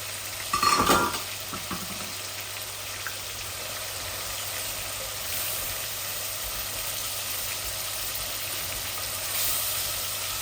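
Potatoes tipped into a frying pan and stirred: a short clatter at the start, then a soft, steady sizzle that continues quietly throughout.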